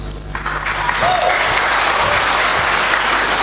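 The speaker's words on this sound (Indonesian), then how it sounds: "Jangan tepuk tangan dulu." An audience at a national seminar breaks into applause, a dense, steady wash of clapping that builds quickly and holds strong, with a few voices faintly under it.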